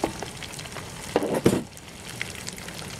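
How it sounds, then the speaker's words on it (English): Pork steaks fry in a pan, a soft steady sizzle with a couple of louder crackling bursts midway as they are turned, fairly quiet and without talk. "you can see them browning, then you flip them over"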